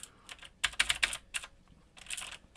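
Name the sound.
typing on plate-mounted MX Blue mechanical keyboard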